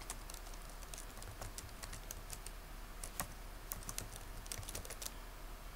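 Rapid clicking of computer keyboard keys as a name is typed, irregular close taps over a quiet background hum.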